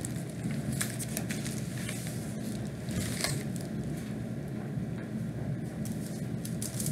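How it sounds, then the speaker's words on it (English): A continuous mechanical rumble and whir of household appliances running, with scattered light clicks and rustles on top, steady throughout. "sorry, it's my dryer and my air conditioner because it is so hot"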